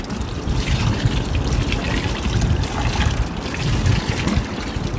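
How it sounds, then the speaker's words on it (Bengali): Water runs and splashes steadily as a bottle gourd is washed, close and fairly loud, an unbroken rushing trickle throughout. "ভালো করে ধুয়ে পরিষ্কার করে নিতে হবে লাউটাকে কাটার আগে"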